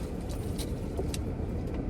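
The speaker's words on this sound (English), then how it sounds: "I'm gonna leave the car on for you." A parked car with its engine left running gives a steady low idle rumble throughout, with a few faint clinks like keys near the start and middle.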